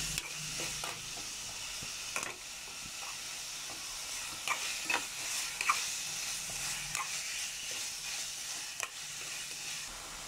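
Chicken sautéing in a pan for a pizza topping gives a steady, quiet sizzle and hiss, with occasional scrapes and taps of stirring, close by and without talk.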